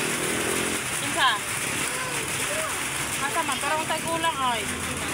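Heavy rain pours steadily outdoors, a dense continuous hiss and patter filling the air, while people talk over it and a whistle-like sound flickers briefly through the downpour.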